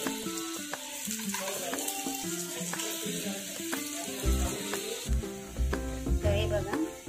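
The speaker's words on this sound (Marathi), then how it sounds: "हे बघा, अशा प्रकारे आपण सर्व भेंडी शॉलो फ्राय करायला ठेवलेली आहेत।" Okra pieces shallow-frying in a pan for a stuffed bhindi dish, crackling softly and steadily up close, with scattered clinks and bumps of utensils over the sizzle.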